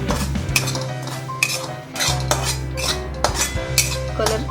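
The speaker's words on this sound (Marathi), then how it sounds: "लालसर कलर येईपर्यंत भाजून घेऊया." A spoon stirs half a kilo of semolina (rava) roasting dry in a pan, clinking and scraping against the metal in repeated sharp strokes over a low steady hum, close and fairly loud.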